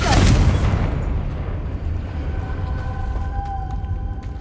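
A Confringo fire spell explodes in the video game Hogwarts Legacy with one loud, deep boom at the start, then a rumbling decay and a few faint ringing tones as it fades.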